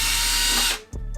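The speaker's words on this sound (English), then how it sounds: "We're just gonna drill out our top hole and then go to our side pre-drill here." A power drill bores screw holes into a 3D-printed scale snorkel accessory for an Axial SCX10-III RC crawler, a loud, steady whir lasting under a second that cuts off abruptly, followed by a faint click.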